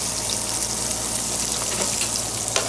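Onions, peppers and garlic sizzle and fry steadily in a pot, a continuous close hiss with faint crackles and a light stirring clatter near the end.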